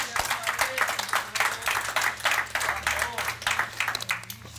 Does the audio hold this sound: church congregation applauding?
yes